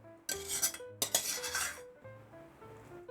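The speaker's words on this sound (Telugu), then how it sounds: "ఆ రైస్ని తీసుకుని ఈ పొంగొచ్చిన పాలల్లో వేసుకుని" Cooked rice is scraped from a cooker into boiling milk in a pot, with a metal spoon clinking and scraping against the vessels in two close bursts, then softer stirring.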